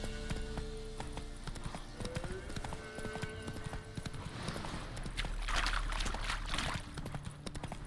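Roach the horse gallops in The Witcher 3, with steady rapid hoofbeat clip-clops over a busy game soundscape at moderate loudness.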